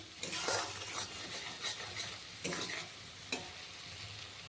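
Masala is stir-fried in a pan for Bengali katla kalia, with a steady sizzle broken by repeated scraping strokes of a spoon against the pan.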